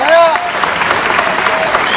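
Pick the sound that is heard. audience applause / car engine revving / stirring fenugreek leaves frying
audience applause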